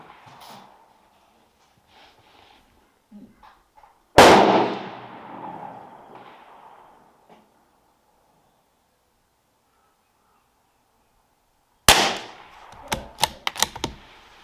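Two sharp .22LR rifle shots at a target, each a loud close crack with a decaying ring several seconds apart, followed by a few quick metallic clicks, with quiet in between and no talk.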